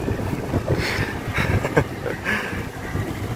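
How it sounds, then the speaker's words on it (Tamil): A small fishing boat leaving Colachel fishing harbour in Kanyakumari: a low engine rumble blended with wind buffeting and water noise, steady and moderately loud, with no voices. "ஒரு குட்டி போட் கிளம்பி போயிட்டு இருக்கு பாருங்க ஃபிஷிங் பண்றதுக்கு"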